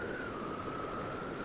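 Rain falls in Zelda: Breath of the Wild, a faint, steady, even hiss of in-game rainfall with a thin sustained tone running through it.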